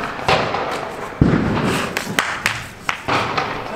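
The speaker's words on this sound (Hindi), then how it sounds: "वो तो बस ये पोप पोप वाले बम ही छुटा सकता है जो जमीन में मारने वाले होते हैं" Snapper pop-pop firecrackers for Diwali bursting on the ground, with a run of sharp separate cracks and thumps at uneven intervals, close by and fairly loud.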